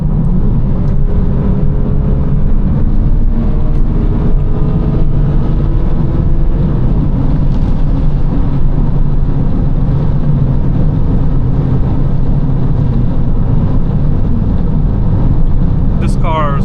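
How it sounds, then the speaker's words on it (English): A naturally aspirated 3-liter N53 engine in a BMW 325i E93 convertible with the rear backbox deleted, pulling hard under acceleration, heard from inside as a steady, loud low drone with rising harmonics and wind rush throughout. "For a naturally aspirated 3-liter engine, oh, it just pulls, it just wants to pull."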